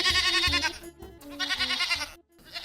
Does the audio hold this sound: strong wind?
no